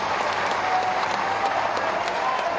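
Audience at a political rally in Saharanpur for Chief Minister Yogi Adityanath claps in a loud, sustained, even wave of applause after his speech, with no voices over it.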